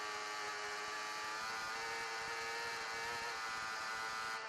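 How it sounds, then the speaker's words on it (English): A BMW superbike engine screams at high speed, heard onboard during the Isle of Man Senior TT: a loud, continuous high-pitched whine with wind roar and no voices. "I love listening to that BM engine singing."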